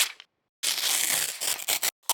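Paper samples from the Comakid HYPER-REAL Ableton pack, a short crinkle followed by a longer dense crumpling and tearing rustle that breaks into a few quick scrunches, close and dry with no talking.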